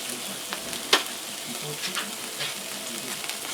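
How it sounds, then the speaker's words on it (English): Steaks coated in a chili coffee rub sear in a hot pan with a steady close sizzle and crackle, plus an occasional sharper pop, and no one speaks. "I'm going to sear them up and cook them quick."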